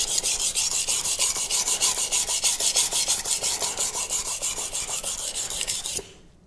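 A knife blade scrapes in fast, steady, rhythmic strokes across a coarse 200 grit CBN whetstone, producing a loud, close, gritty rasp for about six seconds before stopping abruptly.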